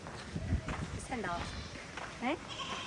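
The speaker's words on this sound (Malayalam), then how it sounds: "ആട്ടുംകുട്ടിയൊക്കെ ഉണ്ട്, ഞാൻ കാണിച്ചരാ." Young goats bleat several times in short, wavering cries, close by in Lakshadweep, amid people talking and some shuffling movement.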